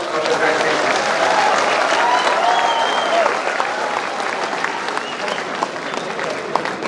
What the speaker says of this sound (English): can you all give yourselves a big round of applause for the graduation?